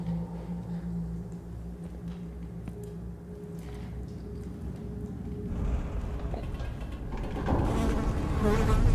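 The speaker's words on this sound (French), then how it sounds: "Les mouches qui volent." Flies buzz steadily throughout a video game scene in Jurassic World Aftermath, a continuous close droning hum that grows slightly louder toward the end, with no talking over it.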